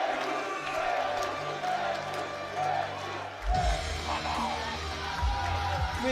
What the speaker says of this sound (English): Oh, listen to the crowd cheering.